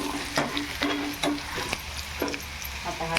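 Asafoetida crackles in hot oil in a pan for Maharashtrian besan pithla, a steady close sizzle broken by several sharp scraping stirs of a spoon against the pan.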